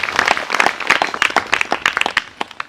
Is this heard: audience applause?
yes